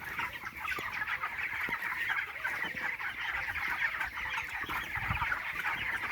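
A flock of 23-day-old broiler chickens clucks and chatters nonstop inside a poultry farm shed, a dense, steady wall of overlapping calls with occasional low thumps, no voices heard.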